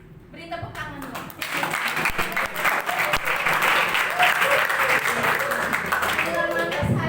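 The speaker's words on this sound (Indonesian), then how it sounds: "Beri tepuk tangan dong." Audience applause at an Indonesian-language health presentation swells after a brief moment of voice and carries on as dense, steady clapping from a crowd, with faint voices underneath.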